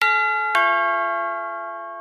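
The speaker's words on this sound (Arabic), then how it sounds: "ايه ده؟ جرس الباب" A doorbell sounds a clear two-tone ding-dong, the second chime ringing out and fading slowly, close and alone with no voices.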